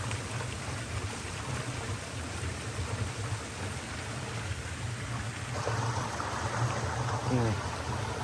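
Water rushing steadily at the top of a waterfall, a broad continuous wash of flowing water close by, with faint voices briefly mixed in toward the end.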